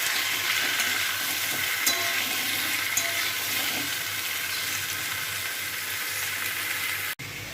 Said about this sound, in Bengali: এখন আমি এখানে কেটে রাখা এই যে ঝিঙে আলু একসাথে দিয়ে দিলাম। ভালো করে এর সাথে নাড়াচাড়া করে নিতে হবে।